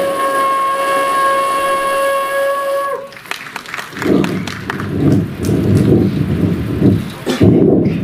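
A performer vocally imitates a train departing for Mumbai: a sustained whistle-like tone, then a rhythmic chugging burst that builds over several seconds, loud and close before a live audience.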